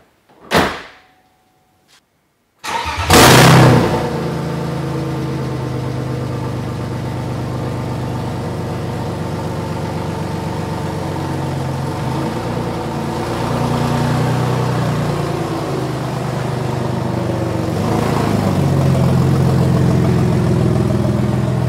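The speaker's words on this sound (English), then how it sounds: "the engine runs fine. I didn't notice anything strange in that" A BMW M52 straight-six running with only exhaust manifolds fitted: a faint clunk, a short pause, then the engine cranks and catches, settling into a loud, steady, raspy idle that swells slightly in places, with no voices.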